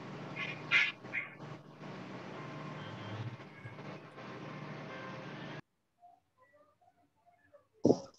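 Duck quacks play through a speaker during an online lecture on control systems, loud squawking bursts over a steady noisy hum that cuts off abruptly, followed by faint sounds and a final sharp burst.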